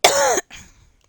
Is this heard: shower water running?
no